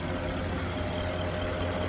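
A Porsche Cayenne engine idles softly in a smooth, steady hum, low and unchanging for the whole moment, with no talking.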